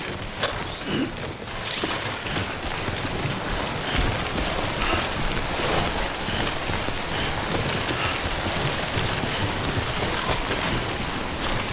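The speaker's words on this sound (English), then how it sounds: "Don't stay out in the rain any longer than you have to." Steady rain of timefall pours down in the video game Death Stranding, a dense, even hiss of drops on surfaces with no voices over it.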